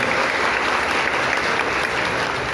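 Congregation applauding at an evening church festival for Saint Joseph in a parish hall, a dense, steady wash of many hands clapping throughout, loud and close with no voices over it.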